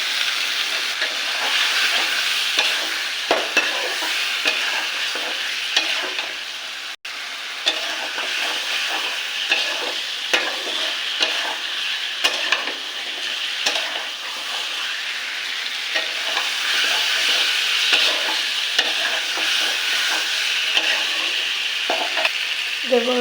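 Potatoes and spices stir-frying in a pan for a vegetarian aloo dum give off a continuous sizzle with repeated scraping strokes of a spatula, moderately close, with no one talking.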